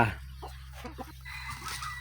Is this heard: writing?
no